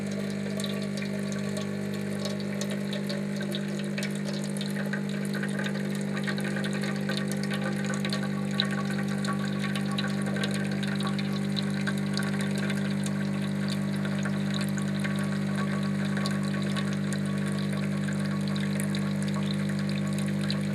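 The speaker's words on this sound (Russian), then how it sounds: "Вот, у нас вода потекла." Hot water runs steadily from a salvaged coffee machine found in the trash, a constant trickling flow over a low pump hum, near and unbroken throughout.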